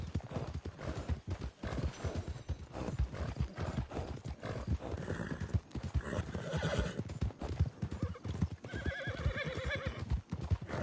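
Horse hooves clip-clop at a fast gallop in the Red Dead Online video game, a rapid, rhythmic drumming that runs throughout, with whinnying neighs rising over the hoofbeats, mostly toward the end.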